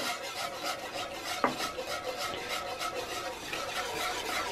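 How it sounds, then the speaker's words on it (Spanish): Capirotada in three milks is stirred and mixed in a bowl, giving a soft, repeated rasping and scraping that rises and falls with each stroke and is broken once by a brief clink. It is close by and no one is talking. "así vamos a seguir lo que es mezclando día poquito a poquito"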